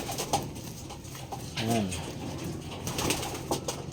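A blue bar pigeon gives a soft low coo amid some wing flapping and rustling close by, while a person speaks briefly.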